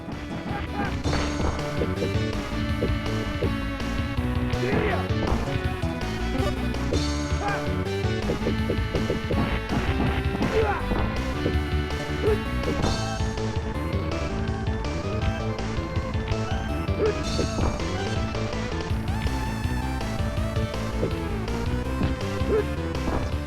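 Busy retro game music plays continuously with repeated punching, smacking and crashing hits of a brawling SNES beat 'em up, emulated on a Mega Drive Mini, layered on top.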